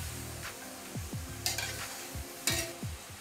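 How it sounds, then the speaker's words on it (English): Vegetables sizzle and crackle in a hot pan while a utensil stirs and scrapes, with a couple of brighter hissing bursts as things are moved. "Roast the vegetables."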